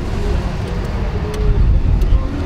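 A drift car sets off for a tyre-warming run at the French drift championship final, a loud steady engine roar with crowd and traffic-like rumble under a faint voice.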